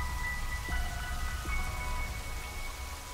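Steady rain from the Bleach Brave Souls 7th anniversary trailer, a continuous close wash of falling drops with faint tonal music lines layered over it, no voices.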